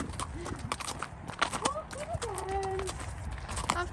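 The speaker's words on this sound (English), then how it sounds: "She is a big horse. Walking away." A big horse walks away during a polework exercise, its hooves clip-clopping in an uneven rhythm beneath people talking, with a few brief whinny-like tones.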